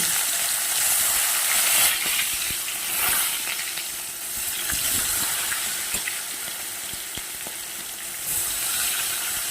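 Fish rubbed with salt and turmeric frying in hot oil in a pan, a loud continuous crackling sizzle with occasional scraping and spitting bursts throughout.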